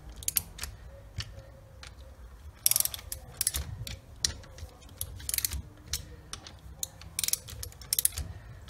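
Bolts being nipped down on an Ashcroft ATB centre diff while building a transfer box, with rapid ratchet clicking in bursts, metallic ticks and scrapes close by, and no talking.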